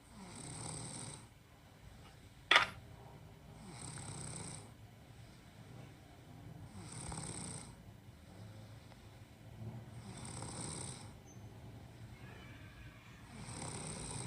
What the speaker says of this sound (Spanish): Está roncando.